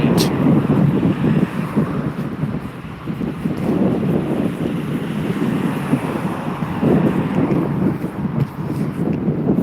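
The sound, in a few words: strong wind blowing outdoors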